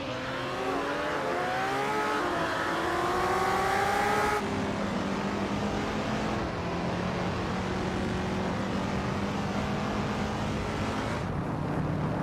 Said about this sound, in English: Hope you're ready for some more exciting AI car racing.